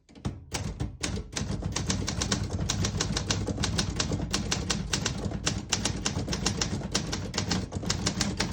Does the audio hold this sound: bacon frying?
no